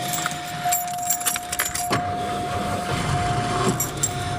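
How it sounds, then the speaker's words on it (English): A Lincoln MKVI project car starting up close by: keys jangle, then there is a sharp crank and the engine catches into a steady running rumble. "Let me just start this one up while we're waiting to get in the back."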